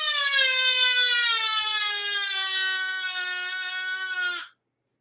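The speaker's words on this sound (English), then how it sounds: "That was the 1700 hours alarm." A building alarm sounds at 1700 hours, a loud, steady, harmonic-rich tone that holds for about four and a half seconds, wavers slightly, then cuts off abruptly into silence.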